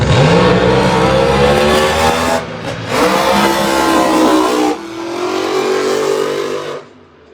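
Loud, close engine roar at a Funny Car drag race at Texas Motorplex, rising in pitch as cars launch down the track, dipping briefly, then surging again before cutting off near the end.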